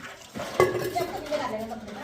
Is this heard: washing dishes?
yes